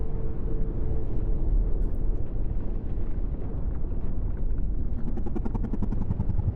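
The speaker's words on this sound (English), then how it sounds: "We got liftoff." Deep, steady rumble of a spacecraft lifting off in the video game Exo One, a broad roaring wash that holds loud and close throughout without pause.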